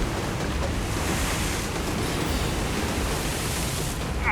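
Waves crash against jagged rocks along a mangrove shoreline, a loud, continuous roar of surf and spray that holds steady throughout, with some wind rumble and no voices.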